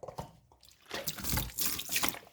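Water runs from a tap with a splashing gush that stops briefly and then comes back stronger, flushing brass filings out of the tap facing.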